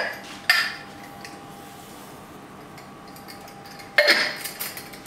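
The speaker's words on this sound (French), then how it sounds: "Je vais mettre les 125 g de sucre" Sugar going into a pot of spiced mulled wine on a kitchen stove, heard as two sharp clinks of a utensil or container against the pot with a faint rustle between them.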